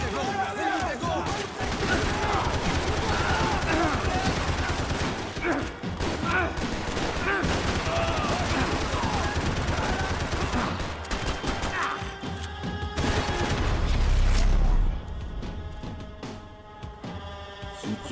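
Dense, relentless gunfire in the video game Max Payne 3 rattles nonstop in rapid bursts, with mechanical clatter and a deep rumble near the end before the barrage eases.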